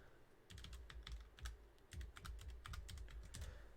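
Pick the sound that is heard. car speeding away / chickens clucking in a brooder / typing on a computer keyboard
typing on a computer keyboard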